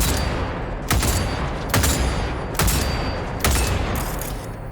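Enemy gunfire in the Cyberpunk video game: four loud bursts of shots about a second apart, each a sharp crack trailing into a dense, roaring rumble of game noise, with no talking.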